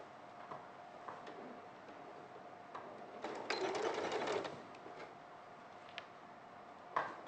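A sewing machine chain piecing fabric runs in one short burst of brisk mechanical whirring in the middle, surrounded by quiet room tone with scattered small ticks and clicks, fairly faint overall.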